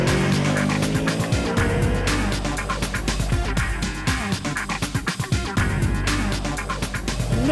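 A 2015 Yamaha R3 motorcycle engine revs hard and repeatedly, loud, rising and falling in pitch with sharp throttle blips, close up and without any talking.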